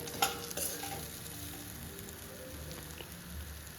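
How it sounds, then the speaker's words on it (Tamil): Guava pieces sautéing in a pan for guava chutney, a close sizzle with a few stirring scrapes and clicks near the start, then a steady hiss. "ஒரு 5 to 6 நிமிஷம் வதக்கி விடணும்"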